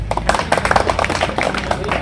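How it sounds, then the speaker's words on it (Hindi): Rally participants, judicial employees marching on the streets of Barmer, clap in a quick, uneven patter while voices in the crowd talk and call out throughout. "तालियां, तालियां"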